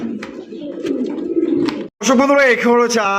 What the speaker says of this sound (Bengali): এক জোড়া মাশাআল্লাহ বিশাল বড় সাইজের আফসান গ্রিজেল রেসার কবুতর